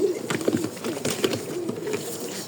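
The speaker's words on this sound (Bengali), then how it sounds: "কবুতরগুলো দেখেন" Rajshahi Giribaz and Teddy pigeons coo softly and repeatedly at close range, low rumbling calls rising over a steady background murmur.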